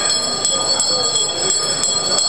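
Bells ringing at a Slovenian Marinovanje folk ceremony in Ormož, bright repeated strokes roughly every third of a second, loud and close over a sustained metallic ringing.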